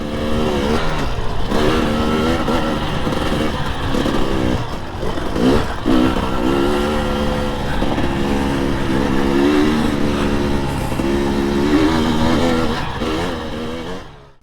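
A KTM 300 XC-W TPI two-stroke dirt bike engine buzzes loud and steady throughout, its rasping note rising and falling with throttle as the rider pushes through Erzbergrodeo terrain.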